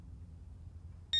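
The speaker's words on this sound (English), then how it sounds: "That external beep means it's unpaired" A Pro-Pointer AT Z-Lynk pinpointer gives a single short, high electronic beep to signal it is unpaired, arriving suddenly at the end after low background quiet.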